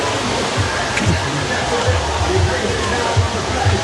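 Steady rain falling by Mandeville River, a continuous dense wash of water noise with a low rumble underneath and faint voices mixed in.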